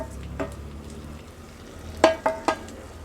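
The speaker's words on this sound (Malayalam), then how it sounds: "നാരങ്ങ ഇപ്പോൾ ചേർക്കാം." Chopped lemons for a Kerala sweet lemon pickle go into a hot frying pan with a low sizzle, followed by a few close, sharp scrapes and taps of stirring near the end.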